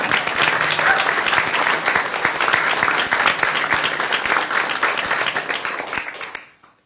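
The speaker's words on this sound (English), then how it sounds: "Insert applause." Sustained applause from an audience at a state budget signing event, steady broadband clapping for about six seconds before fading out.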